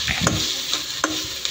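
Yellow miso sautés in a pan with onions, a steady sizzle broken by a few scrapes and stirring knocks of a utensil against the pan.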